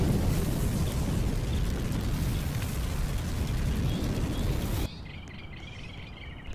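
Fire Ring ability in the Roblox game Heroes Online World: a loud, dense roaring crackle of flames sustained for about five seconds, then cutting abruptly to a quieter hiss with faint ringing tones.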